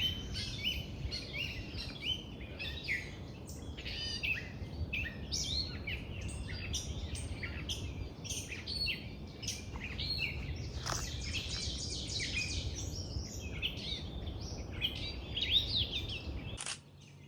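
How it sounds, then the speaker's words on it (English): Several house wrens sing loudly at a spring migration spot on Plum Island, a busy overlapping chorus of rapid bubbling trills and chirps running steadily throughout, close and clear, before cutting off abruptly near the end. "House wrens were singing loudly"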